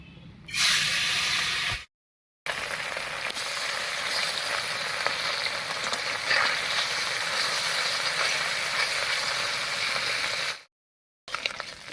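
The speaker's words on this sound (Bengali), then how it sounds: "মাছটা মেখে নিয়েছি এবারে হালকা করে ভেজে নেব" Boroli fish fry lightly in a pan, giving a steady broadband sizzle and hiss for most of the stretch, briefly cut off twice, with no talk.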